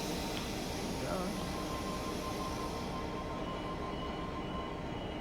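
Commuter train of the A65 set pulling away from Strathfield station, a steady rumbling wash of rail noise with a faint squeal and a voice talking over it.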